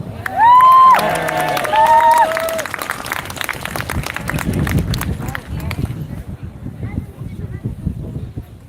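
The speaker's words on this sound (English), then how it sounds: "So please give her a round of applause" Outdoor crowd at a Palestine protest rally in Letterkenny breaks into applause and cheering, with a couple of sharp whistles at the start, then clapping and crowd noise continue for several seconds.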